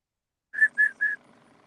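Three short, clear whistled notes in quick succession from a person by a river while out catfishing in Wisconsin, close and loud over a quiet background.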